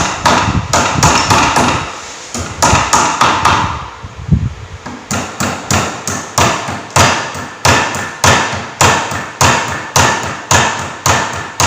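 A hammer strikes power steering rack and pinion parts with a bolt in a steady series of sharp, loud metallic taps, close and rhythmic, with a brief pause in the middle before the blows resume.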